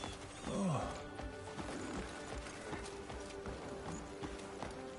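Horse hooves clip-clopping through a small town in the Crimson Desert video game, a steady footfall rhythm at moderate distance under busy ambient clatter, with a brief whinny-like call near the start.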